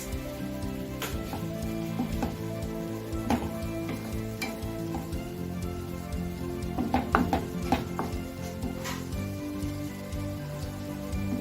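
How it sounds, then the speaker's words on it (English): Vegetables and saltfish for Jamaican ackee and saltfish sizzle in a pan over a raised flame, a steady close crackle with scattered sharper pops and soft stirring clicks, without talk. "So while the vegetables and the saltfish is cooking"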